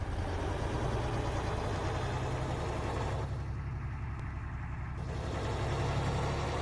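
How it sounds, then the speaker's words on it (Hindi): A steady bus engine drone in the video game Bus Simulator Indonesia, with a low rumbling idle running continuously, loud and even, with no talking over it. "गाड़ी का आवाज़ सुनो यार"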